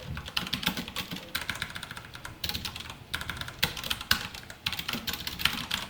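Fast, uneven typing on a computer keyboard while writing Java code, with close, crisp key clicks running in continuous bursts with brief pauses and no speech.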